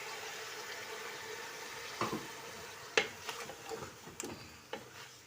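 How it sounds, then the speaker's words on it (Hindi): Chicken stock poured into eggplant and potatoes frying in a pan for a Pakistani baingan aloo dish, a soft steady sizzle broken by several sharp clinks and stirring knocks at close range, no talk. "अब इसमें डाल देंगे हम ये जो यखनियाँ हमारी चिकन की"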